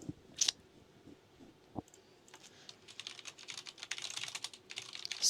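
Rapid typing on a computer keyboard during a Counter-Strike match broadcast, with dense clattering keystrokes that build from sparse taps into a busy, continuous burst near the mic.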